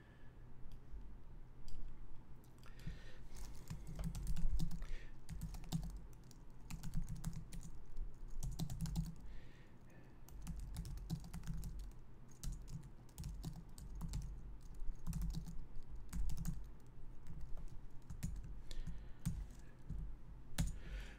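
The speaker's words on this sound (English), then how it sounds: "just typing in a couple things in the comments" Quiet, irregular clicking of a computer keyboard during a live-streamed Sunday morning prayer broadcast, short bursts of keystrokes with brief pauses, faint and close in a still room.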